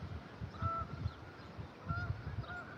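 Geese honk in two short bursts of several calls each, moderately close and fairly faint, over a low outdoor background with no talking.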